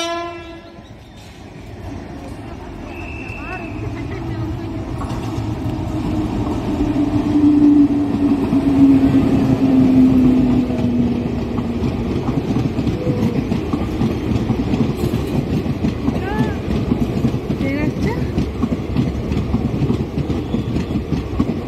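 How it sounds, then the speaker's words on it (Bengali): A train pulls in alongside a railway platform, a steady loud rumble of wheels and wagons rolling past up close, with a sustained horn tone partway through. "এতে ট্রেন আসছে"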